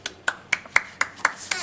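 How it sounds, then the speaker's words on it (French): A few people clap for some girls at a family gathering, giving sparse, irregular claps spaced about a quarter second apart, fairly close and fairly soft, with no talk over them. "on applaudit les filles."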